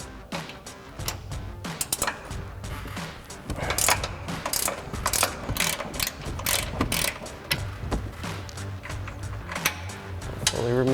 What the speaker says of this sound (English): we're going to remove the 3 mounting nuts with our 18mm ratchet wrench